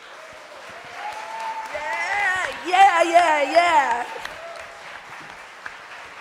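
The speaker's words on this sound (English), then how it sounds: "So please give a big round of applause for the dozens and dozens of volunteers." Audience applause for volunteers at Porcfest, a libertarian festival soapbox event, a soft spread of clapping mixed with cheering and whooping voices that swells in the middle and then tapers off.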